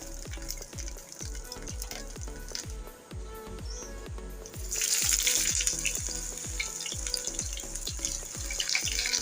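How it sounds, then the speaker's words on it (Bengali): Slices of pointed gourd frying in hot oil until golden, a steady crackling sizzle with a regular tapping rhythm throughout, the hiss growing brighter partway through. "আমি এইভাবেই এরকম গোল্ডেন কালার করেই ভেজে নিচ্ছি।"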